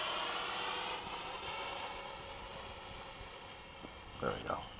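A Freewing 90mm F-104 radio-controlled jet comes in to land in the evening, its steady whining turbine roar sustained and moderately distant, with a short burst of voices near the end.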